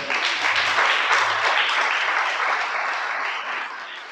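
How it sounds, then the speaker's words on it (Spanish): Audience applause at a Spanish-language Sabbath sermon, a steady wash of many hands clapping that holds strong for about four seconds before tapering slightly at the end. "Dale un aplauso al creador."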